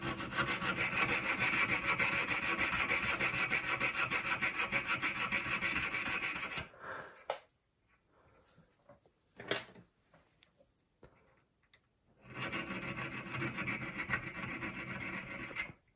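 A chequering tool made from a screwdriver drags across wood in steady, close rasping strokes, with a long scraping run, a quieter middle stretch of scattered scrapes, then more steady rasping.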